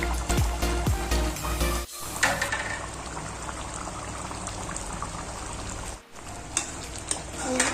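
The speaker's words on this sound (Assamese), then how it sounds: "দেখিছে আমাৰ মাংসখিনি পূৰা ভালকৈ উতলি আছে" Pork meat boiling in a pot, a continuous bubbling, hissing simmer close by at moderate level, broken by a couple of short clattering stirs or lid knocks and brief pauses.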